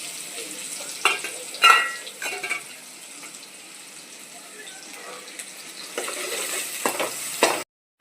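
Onion frying in hot oil with mustard seeds and cumin gives a soft, steady sizzle, broken by a few louder stirring scrapes and clatters, with a voice talking briefly over it.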